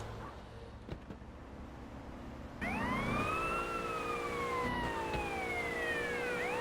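Police sirens in GTA San Andreas abruptly start wailing, rising and falling loudly over a low engine rumble, close and continuous.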